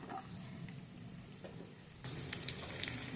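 Minced garlic and ginger sauté in leftover oil from frying fish for sinigang sa miso. A soft, steady sizzle crackles close by and grows slightly louder partway through.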